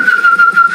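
A single sharp, high catcall-style whistle holds one steady pitch for under a second, loud and close, with slight flutter and nothing else around it.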